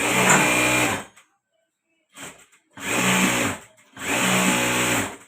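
A sewing machine stitches a bag in three loud, close bursts: a long run, a short stuttering start, then two steady runs at fast speed separated by brief pauses.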